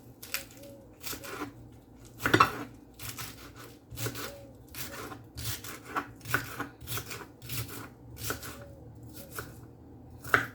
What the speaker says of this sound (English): So I'm now just cutting up my veg.